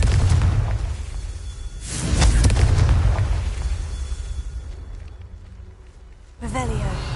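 Booming fiery blasts from the Confringo spell in Hogwarts Legacy, a couple of heavy, close explosions with rumbling tails, mixed with game sound and a voice speaking over them.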